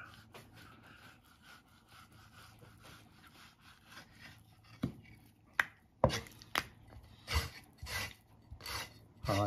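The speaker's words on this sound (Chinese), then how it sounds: "再把刮好油的肉皮切成粗丝" A knife cuts scraped pork skin into thick strips on a board while preparing crystal pork skin jelly: quiet, irregular chopping strokes that grow sharper and more frequent toward the end, close up, with no talking.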